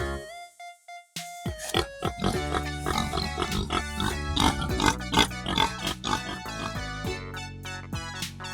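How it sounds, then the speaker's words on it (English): A pig oinks in a children's animal segment: a series of repeated grunts and snorts over bright, tonal accompaniment, close and clear, with no speech. "Pig. Oink, oink."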